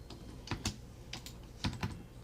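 Keys tapped on a computer keyboard while entering a drawing label, heard as a few sharp, close clicks in two small clusters with quiet gaps between them, no voices.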